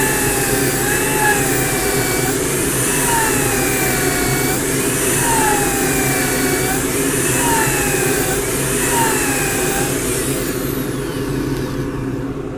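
Wide-rimmed wooden bowl spinning on a lathe as a gouge cuts into the oncoming wood, a steady loud motor-like whir with a rising-and-falling tonal sweep about every two seconds, no voices.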